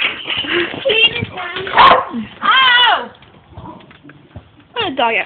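Dog barking and yipping in a house, several sharp barks mixed with whimpers, close and loud, with people talking over and between the barks.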